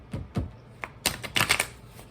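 Tarot cards are shuffled by hand for a reading, giving a few soft riffling bursts and taps close up, quiet and brief, with no talk.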